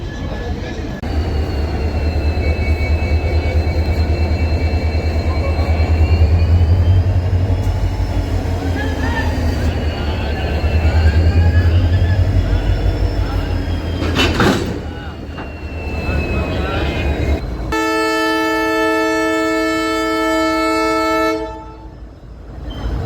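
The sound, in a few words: diesel locomotive of a Mail Express train at a station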